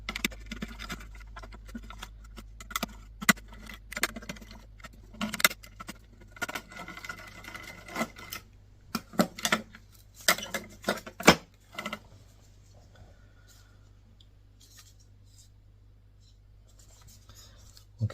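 Screws come out of a Samsung laptop being taken apart for scrap: close, irregular scratchy twisting and small metallic clicks in bursts, then the handling dies down to near quiet.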